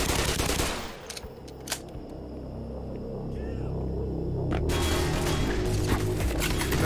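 Gunfire in the video game Black Mesa pops through a dense, loud, humming game soundtrack, with a couple of sharp shots early and a sustained rattling burst toward the end.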